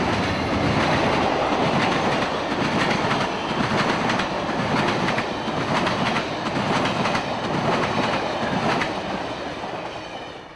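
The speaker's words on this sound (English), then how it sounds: "Amtrak 92, speeding to Tampa coming out of his station stop at Lakeland" Amtrak 92 passenger train speeding toward Tampa out of its Lakeland station stop, passing close by with a loud, continuous roar and rhythmic clickety-clack of wheels over rail joints, slowly fading at the end.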